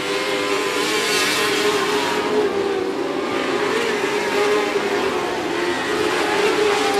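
Race cars circle a speedway oval at a regular race program, a loud continuous engine drone with shifting pitch as cars pass under power, backed by a faint crowd murmur.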